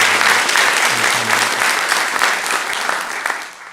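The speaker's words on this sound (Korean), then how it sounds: "인사하고 들어갈 때 여러분 큰 박수로 다시 한번 격려해 주시면 좋겠습니다." Steady applause rises from a church congregation at a Sunday morning service, dense and close, then fades toward the end as the clapping dies down.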